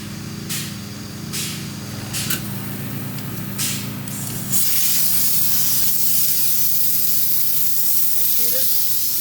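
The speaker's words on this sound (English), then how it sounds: "we're not even gonna disconnect it unless we hear foam coming out the sides" Steady hissing spray of injected foam forcing out the sides of a concrete slab under pressure during void filling, with a low mechanical hum beneath and brief bursts; the hiss grows louder and broader midway.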